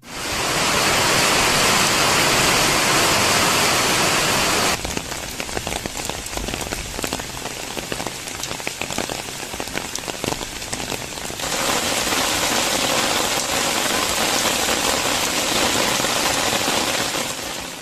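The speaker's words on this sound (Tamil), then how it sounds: "செல்வபுரம், ராமநாதபுரம், சிங்காநல்லூர், உக்கடம், புளியகுளம், கவுண்டம்பாளையம் உள்ளிட்ட பெரும்பாலான இடங்களில் இடி மின்னலுடன் மழை கொட்டியது." Heavy rain pours down steadily during a thunderstorm in Coimbatore, a dense continuous hiss of drops striking surfaces, loud and close throughout with a brief shift in texture midway.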